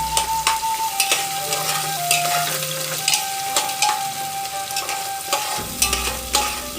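Onions stirred and frying in a pan for broken wheat upma, with a steady sizzle under repeated spatula scrapes and clinks close by, no talking.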